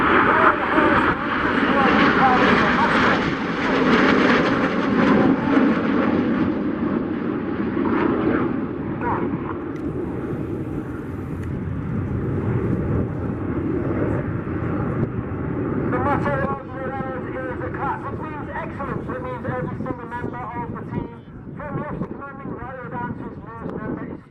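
RAF Red Arrows jet aircraft flying a display at Duxford, a loud sustained roar that rises and swells then settles into a steady distant rumble with passing engine noise throughout.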